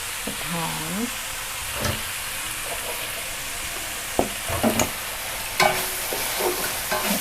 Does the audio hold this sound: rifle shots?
no